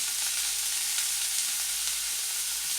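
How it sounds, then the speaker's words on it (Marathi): Cut green chillies frying in oil in a pan, a steady, close sizzle that hisses evenly throughout with no talk over it. "कट केलेल्या मिरच्याही छान तेलामध्ये परतून घ्यायच्या आहेत."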